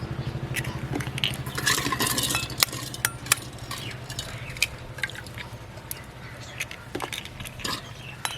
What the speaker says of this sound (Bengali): ডিমগুলোকে আমি ফাটিয়ে নেব।